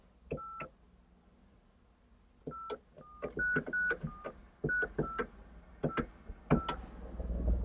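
A series of short electronic beeps from Japanese public payphone keypad presses, each with a sharp click, irregularly spaced and fairly close, no speech.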